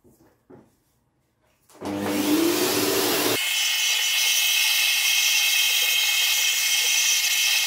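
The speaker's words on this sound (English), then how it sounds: "we need a vacuum cleaner." A vacuum cleaner starts up with a brief rough burst, then settles into a steady, loud whine while pulling dust from an ASUS X540L laptop, running continuously to the end after a few quiet handling knocks.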